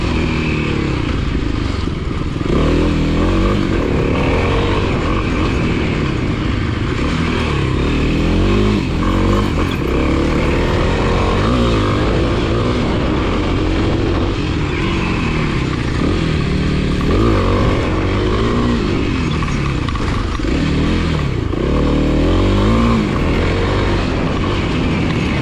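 Kawasaki KLX300 dirt bike revving hard on a trail, engine note loud and close throughout, rising and falling continuously with throttle changes, no talking.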